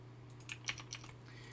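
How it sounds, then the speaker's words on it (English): Control X and Control V are pressed on a computer keyboard, heard as a few quiet, close key clicks in quick succession over a low steady hum. "use Control and X on my keyboard to cut it, and then Control and V to paste it."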